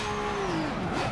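A car engine in the Forza 7 racing game, a loud sustained engine tone sweeping downward in pitch as the car decelerates or shifts, with no talking.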